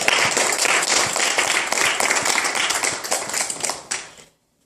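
A church congregation clapping in praise, a loud, dense burst of many hands that carries on steadily for about four seconds, then stops abruptly.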